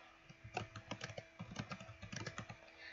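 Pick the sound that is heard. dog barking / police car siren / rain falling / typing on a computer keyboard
typing on a computer keyboard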